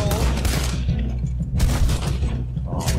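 Shotgun blasts in Red Dead Redemption 2, a heavy booming shot at the start and another near the middle, with rumbling gunfight noise and a third burst at the end, loud and close.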